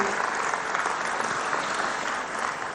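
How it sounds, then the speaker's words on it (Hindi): A large audience at a public ceremony for laying foundation stones and inaugurating national highway projects gives a steady round of applause, a dense, even wash of many hands clapping, heard from a distance. "बहुत जोरदार ताली बजा के स्वागत करें।"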